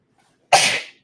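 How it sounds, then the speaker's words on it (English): A single loud sneeze bursts out after a moment of silence, close and sharp, then trails off quickly. "I'm getting ready to sneeze"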